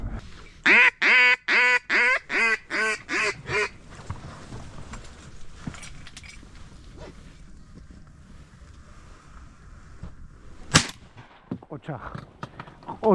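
Ducks quack on Jandari Lake during a duck hunt: a rapid, loud run of about eight harsh calls in the first few seconds, then wind and quiet water noise, broken by one sharp crack near the end.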